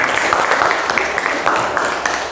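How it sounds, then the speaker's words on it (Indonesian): Students in a classroom clap for a classmate receiving a prize, a short burst of mixed, fairly close applause with voices underneath. "Kita berikan tepuk tangan untuk Apriyati."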